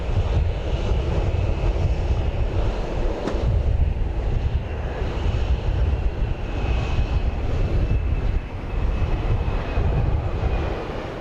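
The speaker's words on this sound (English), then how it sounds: "We have a JSX Embraer 145 just about to land." JSX Embraer 145 jet landing at Dallas Love Field, a loud, continuous engine roar with a steady whine close by, rumbling evenly throughout with a brief sharp click early on.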